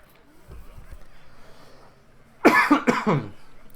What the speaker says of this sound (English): More coughing.